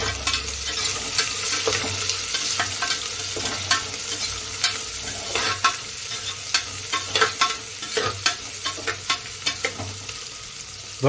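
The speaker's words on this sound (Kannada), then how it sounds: "ಬ್ರೌನಿಶ್ ಆಗ್ತಾ ಇದೆ ನೋಡಿ, ಫ್ರೈ ಮಾಡ್ತಾ ಇರ್ಬೇಕು" Chopped onions fry and sizzle in a pan for a Bangalore-style mushroom biryani, with a steady close hiss broken by repeated sharp scrapes and clacks of a spoon stirring them toward brown, no voices.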